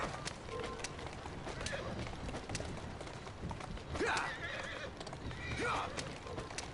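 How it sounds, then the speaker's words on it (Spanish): Horses gallop in Assassin's Creed Syndicate, a steady clip-clop of hooves with whinnies and neighs rising near the middle and end, under a dense game soundscape with some speech. "Es el caballo solo el que está corriendo."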